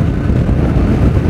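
A Honda Bros 150 motorcycle fitted with a 16-tooth front sprocket and 48-tooth rear sprocket runs flat out downhill, its engine straining in a loud, steady, dense roar with constant wind rush and no let-up.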